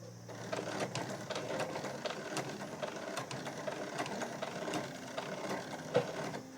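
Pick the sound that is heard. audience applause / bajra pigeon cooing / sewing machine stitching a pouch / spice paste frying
sewing machine stitching a pouch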